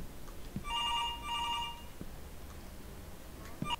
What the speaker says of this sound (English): Should I answer the phone? Yes, I should answer the phone